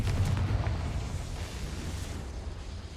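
A Confringo fire spell explodes in the Hogwarts Legacy game, giving a loud, deep, rumbling boom at the start that fades into a long, roaring wash of noise.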